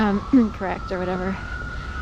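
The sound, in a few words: emergency vehicle siren passing on a city street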